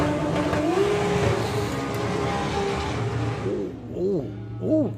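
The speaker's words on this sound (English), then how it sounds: "That poor old R30 engine had all the revs there, but no motion at all." The R30 engine of a drag racing car revs hard at a doorslammers event without moving forward. It produces a sustained roar that rises and falls in pitch, with a few sharp rev bursts near the end and voices talking over it.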